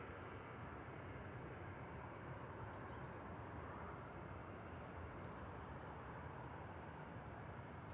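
A Ryanair Boeing 737 MAX 8200 departing Manchester Airport, a constant broadband roar of jet engines at full takeoff power, sustained and even throughout as it passes and pulls away.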